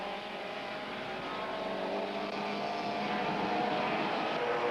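Supertouring race cars, including a Minolta Toyota Sprinter, racing at Killarney in 1993; a distant engine drone steadily swells as the cars approach and pass.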